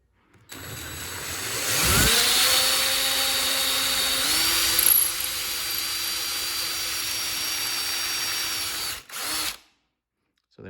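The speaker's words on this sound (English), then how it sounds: "I'm gonna pre-drill my holes." Cordless power drill pre-drilling holes into a sheetrock wall for a curtain rod, a close whirring whine that spins up, holds steady for about seven seconds, then cuts off, followed by a short second burst.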